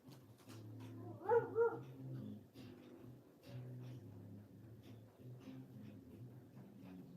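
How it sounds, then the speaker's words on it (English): Hunter the dog yips and whines in short, high-pitched bursts that rise to a brief louder peak, then settles into intermittent whimpering across several seconds. "Why is Hunter barking so much?"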